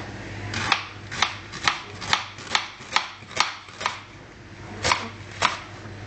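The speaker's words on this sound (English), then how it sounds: "Then we need to slice it." An onion being sliced with a knife on a cutting board: about ten crisp, evenly spaced chops with short pauses between them, close and clear, with no talking.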